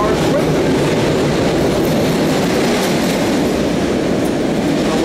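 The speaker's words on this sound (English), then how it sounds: "that is a 69th Street bound train" A SEPTA subway train bound for 69th Street rumbles past a station platform in a continuous, loud roar of wheels on rails that lasts throughout, with no talking.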